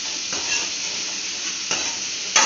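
Onions for Tamil fish curry fry in oil over high heat, a close, steady sizzle with a few soft stirring scrapes breaking through it.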